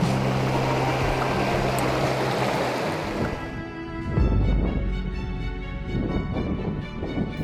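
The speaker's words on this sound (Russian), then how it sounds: "Шум воды." River water rushes and gurgles steadily over shallow riffles, a continuous broadband wash; a lower hum fades out partway through and the flow carries on alone.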